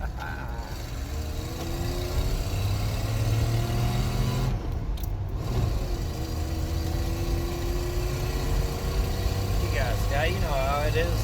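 Loud vehicle engine with a stock muffler whose baffling is gone rumbles steadily close by, a deep droning exhaust tone with slight rises in pitch, while people talk over it.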